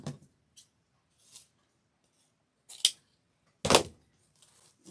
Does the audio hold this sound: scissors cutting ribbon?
yes